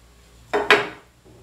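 A utensil knocks twice against a pot while fish head pirão is stirred, two quick close clatters with quiet around them.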